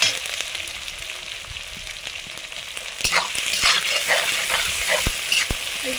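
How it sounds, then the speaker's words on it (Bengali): Chopped onion, garlic, ginger and chili frying hard on a high flame, a steady loud sizzle with stirring scrapes that grow busier and more crackly partway through, no voices. "একদম হাই ফ্লেমে ভাজবো।"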